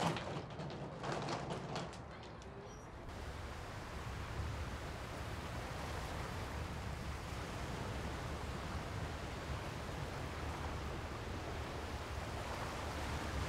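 Sea waves wash in a steady, unbroken roar of surf along a shore, holding constant after a brief shift in the opening seconds, with no one speaking.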